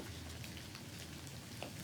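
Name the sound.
rain ambience sound effect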